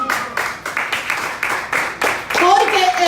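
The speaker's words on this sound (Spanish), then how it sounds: "¿Cuántos aplauden al Señor?" Church congregation clapping together in steady rhythmic unison, about eight regular beats, then a voice rises over the claps near the end.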